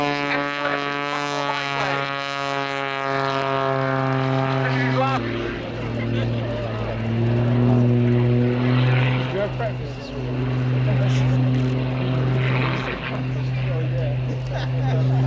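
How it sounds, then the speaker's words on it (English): A Belgian Air Component General Dynamics F-16A MLU Fighting Falcon performing at an airshow, its loud, sustained engine roar with a droning, shifting tone, steady throughout and partly under a commentator's voice. "the General Dynamics, now Lockheed Martin F-16A MLU Fighting Falcon"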